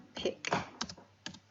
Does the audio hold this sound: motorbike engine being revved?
no